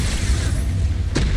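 Loud, deep booming blast from the Expulso explosion spell in the video game Hogwarts Legacy. A heavy low rumble rolls throughout, with a sharper burst cracking near the end.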